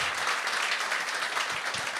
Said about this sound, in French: Yann Terriot, j'aimerais ça qu'on lui donne une bonne main d'applaudissement, qui est juste là.